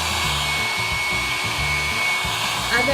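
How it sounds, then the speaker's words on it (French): Hair dryer blowing hot air onto a shoe to stretch it, a loud steady whooshing roar that runs unbroken throughout, heard up close with no talking. "à l'aide de votre sèche-cheveux, vous allez juste faire comme ceci pour agrandir la zone qui vous sert"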